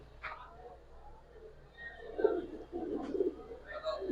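Silver Giribaz pigeons in a cage give soft, low, rolling coos, faint and intermittent over a quiet background.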